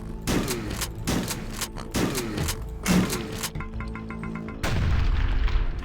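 Grenade blasts in the retro shooter HROT: four heavy booming detonations at roughly one-second intervals, followed by a burst of rattling debris and a sustained low rumble, loud with no talking.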